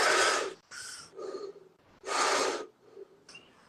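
A person breathes deeply and audibly during a jaw exercise, with two long strong breaths and shorter softer ones between them, close and clear with quiet gaps.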